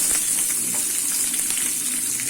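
Small peeled shallots, about fifteen, hit hot oil already crackling with mustard seeds for a hotel-style tiffin sambar in a cooker, giving a steady, bright, close sizzle throughout with no talk.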